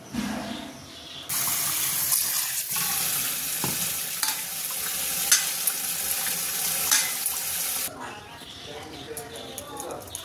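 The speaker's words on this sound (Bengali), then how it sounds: "চলো মাছটা ধুয়ে নিই।" Fish rinsed under a running kitchen tap, a steady close rush of splashing water that starts and stops, with faint clatter underneath and a person talking.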